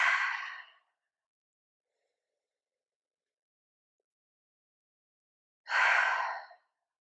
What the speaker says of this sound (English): So just a few more full breaths in and out.